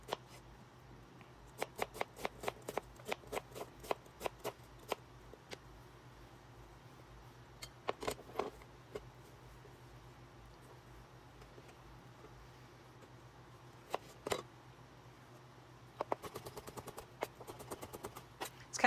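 A knife slicing a red onion on a cutting board: bursts of quick, crisp cuts come in clusters separated by quieter pauses, close and fairly soft.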